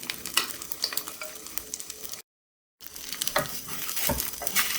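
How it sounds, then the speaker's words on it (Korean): Oyster pancakes in egg batter fry in a pan over low heat with a continuous crackling sizzle and light scraping, interrupted by a short gap of silence before the frying resumes. "프라이팬에 열이 오르고 나면 불을 약하게 낮춰서 굽도록 하세요"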